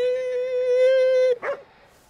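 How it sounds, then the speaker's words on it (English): A dog in Ghostwire Tokyo gives a long, steady, high whine lasting over a second, then a quick short yip that fades into quiet. "This is a unique dog."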